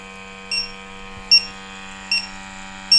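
A SENSIT PMD portable methane detector runs its pump with a steady, close electronic hum, broken by four short, regular beeps about every 0.8 seconds.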